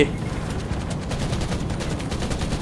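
Automatic gun turret firing in the survival shooter Undawn, a dense, steady stream of rapid gunshots running throughout at a constant loud level, with no pause.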